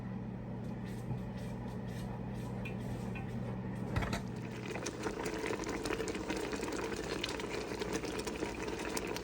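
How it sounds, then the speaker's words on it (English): Pepper jelly coming to a boil in a pot on the stove, a steady bubbling roll with a low hum underneath and a brief clunk partway through, no voices. "I'm starting to get my boil now"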